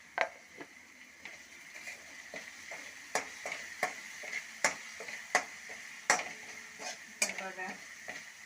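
A vada pav spice paste is stirred and cooked in a hot pan, a soft sizzle running underneath repeated scraping strokes of a spatula against the metal at a steady, uneven rhythm, close and moderately loud, with no talking.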